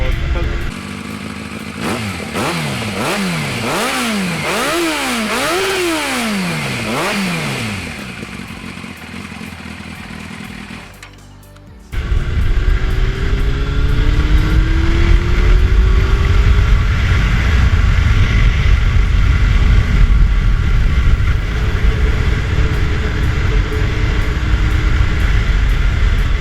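A Yamaha Fazer 600 motorcycle engine and exhaust rev repeatedly, with pitch sweeping up and down through several quick rises, then a cut gives way to a steady ride, where a strong wind roar covers the engine's drone and occasional gear-change swells.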